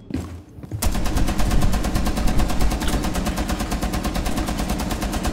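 Rapid automatic gunfire erupts in the video game Rainbow Six Siege after a brief quiet moment, a dense, loud, unbroken stream of shots that continues to the end.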